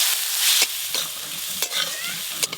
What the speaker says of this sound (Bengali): এই শাকটা হালকা করেই ভাজতে হবে